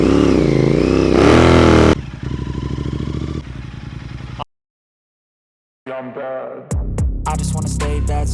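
A Royal Enfield Interceptor 650 motorcycle on a test ride gives a short, loud pulsing engine burst, cut in abruptly between stretches of music and broken by a moment of silence.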